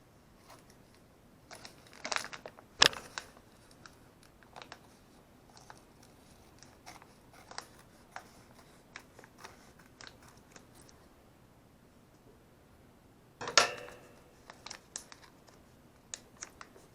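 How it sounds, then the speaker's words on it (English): Scissors snip through a sheet of material while making a dog mold, giving a few sharp close cuts, with two louder bursts near the start and again later amid quiet rustling. "going to get scissors to cut this"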